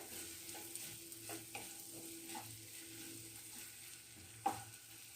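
Onions fry in hot oil for a dhaba-style egg tadka, a quiet, steady sizzle with soft stirring scrapes and one sharper knock near the end.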